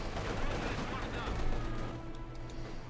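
A Maxim machine gun fires in a Company of Heroes 2 battle, a dense continuous rattle of gunfire and explosions filling the whole stretch, with some game noise layered underneath.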